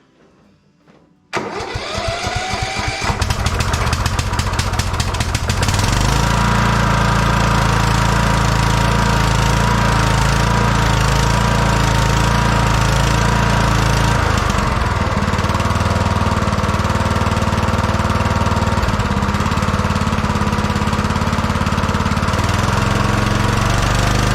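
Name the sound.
tractor engine starting and running with a HIPA carburetor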